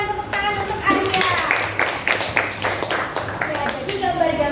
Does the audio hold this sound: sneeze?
no